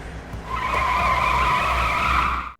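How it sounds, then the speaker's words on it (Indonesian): A car in a film tears off to follow another car, tires skidding and squealing loudly and steadily for about two seconds before cutting off abruptly, with no talk over it. "segera masuk ke mobil dan langsung mengikuti mobil itu untuk menyelamatkan ibu Jongso."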